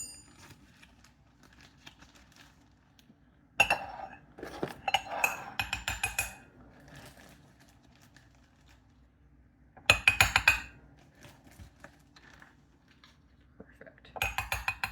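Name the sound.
spoon clinking while measuring tablespoons of flour into bowl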